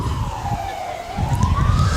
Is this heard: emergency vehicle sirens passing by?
yes